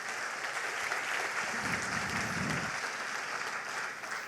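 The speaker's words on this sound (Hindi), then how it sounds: "जोरदार तालियां एक बार," An audience at a speech event gives a steady round of applause that holds at an even level throughout and swells briefly in the middle.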